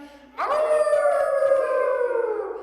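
A child imitates a coyote howl during a children's yoga session: one long sustained wavering vocal howl, loud and close, rising at the start and slowly tapering off over a couple of seconds.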